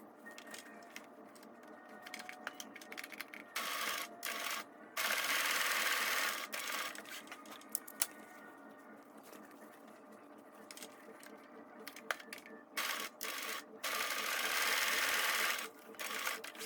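A sewing machine stitches the corners of a fabric basket, running in short bursts and a few longer steady runs separated by quiet handling gaps, close and clear with no talk.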